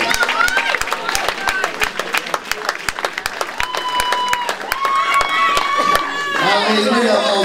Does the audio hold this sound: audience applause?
yes